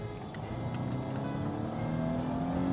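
A Volvo S60 B5 accelerates hard in normal mode to overtake a tractor on a mountain road, a steady rising engine drone heard from inside the car, loud and continuous.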